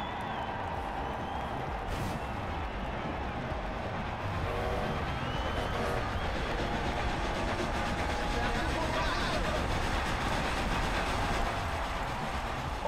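A train rumbles past with a steady rolling roar and faint clickety-clack during a drive in the racing game Forza Horizon 2, a car engine droning along throughout while a voice talks over it.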